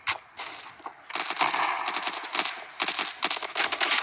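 Rapid bursts of automatic gunfire in the video game Standoff 2, loud and close, firing in repeated volleys with brief pauses between.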